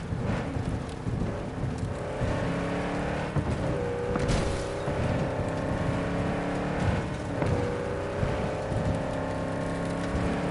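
A car engine drones steadily during driving in Cyberpunk 2077, a continuous rumble with occasional rising and falling engine pitch as the car glides over terrain, mixed with road and wind noise.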